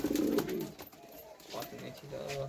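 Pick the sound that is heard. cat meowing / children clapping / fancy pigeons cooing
fancy pigeons cooing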